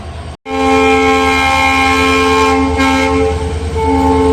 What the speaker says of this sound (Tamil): ஹார்ன் சவுண்ட் கேட்டிருப்பீங்க, செம்மையாக இருக்குது.